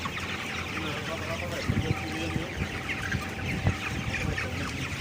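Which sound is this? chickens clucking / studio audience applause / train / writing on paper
chickens clucking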